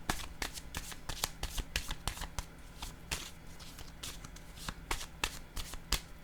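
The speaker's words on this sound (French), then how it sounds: "Je vais déposer une carte dans cette zone." Playing cards are handled quietly on a table, giving a rapid run of crisp flicks, snaps and light taps close up, with no steady background.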